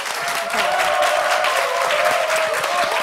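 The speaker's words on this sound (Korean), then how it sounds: "박수 한번 부탁드립니다." At a talk concert for an Incheon education superintendent candidate, an audience bursts into applause, a dense steady clatter of many hands that swells slightly after the first half-second and holds evenly.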